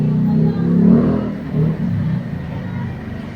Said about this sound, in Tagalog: running pa rin yung fan saka yung compressor